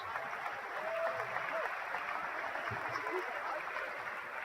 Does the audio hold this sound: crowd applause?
yes